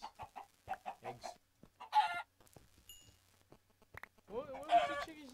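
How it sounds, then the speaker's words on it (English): Chickens in the video game Minecraft give several short clucks in quick bursts, then a longer squawk, heard between players chatting over the game. "Watch out for the chicken."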